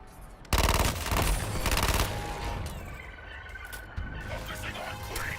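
Rapid automatic gunfire in Suicide Squad: Kill the Justice League, a loud sustained burst of rattling shots that fades into lingering echoes and game effects.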